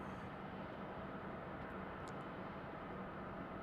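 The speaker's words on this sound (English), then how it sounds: "Our MD-11 is on the move." McDonnell Douglas MD-11 trijet airliner taxiing at Raleigh-Durham International Airport, a steady broad engine roar heard from a distance, constant and even with no clear change in pitch.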